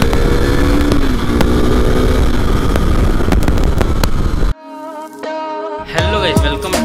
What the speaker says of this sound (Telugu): KTM RC 390 ని రైడ్ రివ్యూ చేయబోతున్నాం